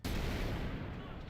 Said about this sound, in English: There's explosions in the background.